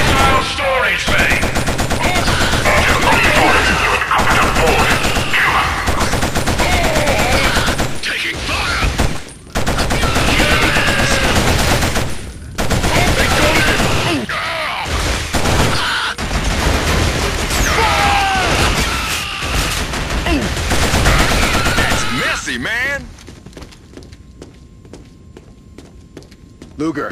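Sustained automatic gunfire from the Killzone video game, with dense bursts and thuds, brief gaps and footsteps, while soldiers shout commands over the shooting, before it drops to quieter room tone near the end.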